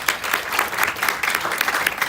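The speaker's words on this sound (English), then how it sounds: "Let's now give director Samantha Lee a warm round of applause." Warm round of applause from a media launch audience for director Samantha Lee, brisk even clapping from many hands filling the room throughout.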